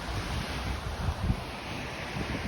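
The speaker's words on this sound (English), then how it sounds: "watch the amazing view of the Lake Ontario, including the water waves" Waves on Lake Ontario wash steadily against the shore at Woodbine Beach, Toronto, on a December day, a continuous loud surf wash mixed with gusty wind buffeting the microphone and no voices.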